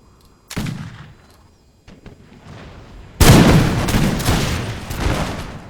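Musket volleys and artillery fire from the Empire Total War video game: a sharp blast near half a second, a few faint pops, then from about three seconds a dense, loud continuous fusillade of overlapping shots and booms that rolls on to the end.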